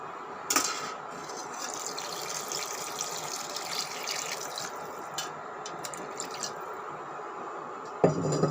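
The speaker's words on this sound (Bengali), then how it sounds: "এখন আমি এর মধ্যে পানি অ্যাড করতেছি।" Water poured into a pot of browned chicken curry, a steady splashing pour with a faint trickle that runs for several seconds before a clink near the end.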